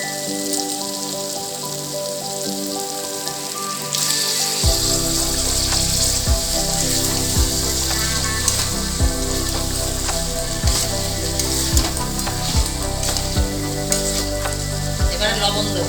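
Chicken pieces hit hot oil for chicken rezala, a cashew-raisin paste masala already cooked down, setting off a loud, steady sizzle with repeated scraping stirs and clinks, close up, no voices.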